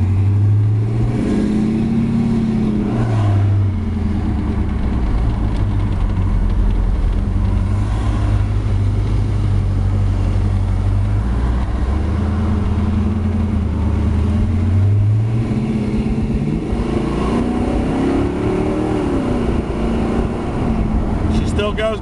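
A 1969 Pontiac GTO convertible running its original engine, transmission and rear end drones loudly and continuously on a drive, the engine note rising and falling in pitch as it accelerates and eases off.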